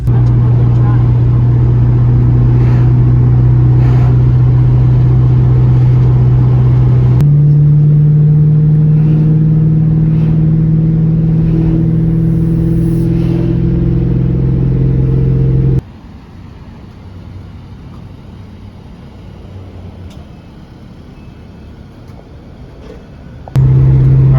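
A Ford Mustang drives along a strip at a Mustang car event with a steady low engine drone and a gear change partway through, heard from inside the car, then the engine fades to a quieter hum under faint talk.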